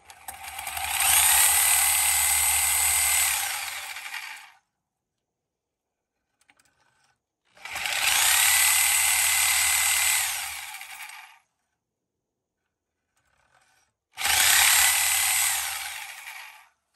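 A power tool cuts a slot through the control arm bushing shell of a 1972 DeTomaso Pantera in three loud, sustained bursts of high grinding whine, separated by short pauses of near silence.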